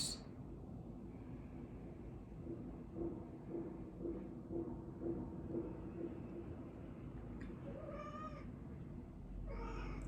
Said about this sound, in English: I don't know if you can hear my cat Luna saying hello.